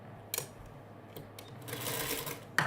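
Sewing machine stitching a Dresden quilt block in short bursts, a buzzing whir that starts, pauses and runs longer near the end, close by in a quiet room.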